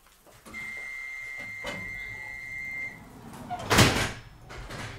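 A London Underground 1972 stock train's sliding doors close with a sharp whoosh and thud, preceded by a steady high electronic tone and hum in an enclosed space.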